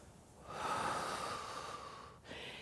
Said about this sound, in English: Remembering to breathe.